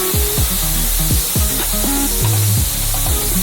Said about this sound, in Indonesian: Mari kita goreng jamurnya ringin dan dalam wajan.